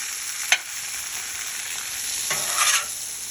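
Cabbage steak sizzling in a pan at close range, a constant bright hiss broken by a sharp clack and a swell of louder sizzling near the end, with no talking.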